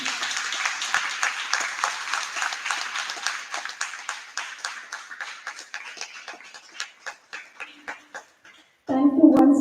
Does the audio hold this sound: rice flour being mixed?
no